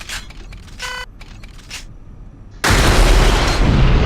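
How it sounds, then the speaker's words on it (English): A homing missile launcher's alternate fire in Unreal Tournament gives a few short mechanical clicks and tones, then a sudden loud, sustained roaring blast of launch and explosion. Nobody speaks. "It's still a homing missile if you use the alternative fire"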